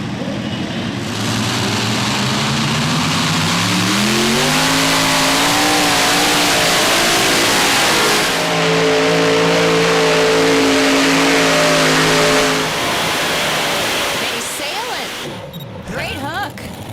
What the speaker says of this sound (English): Jamie Austin, the first competitor out here in the super modified tractors.